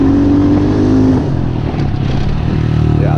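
A Honda CRF110F pit bike engine revs hard during a wheelie, a loud, buzzing small-displacement whine that drops briefly and then climbs again close by.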